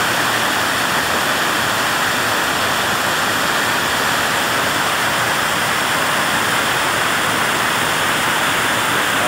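Steady, loud rush of stream water carrying debris as it pours into a storage tank at the Quebrada de Arroz, a continuous full roar with no pauses and no voices.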